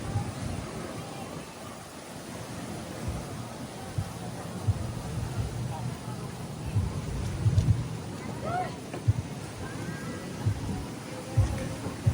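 Rain falls at White Beach on Boracay island in the Philippines in July, with low rumbles of thunder rolling beneath the steady patter while someone talks over it.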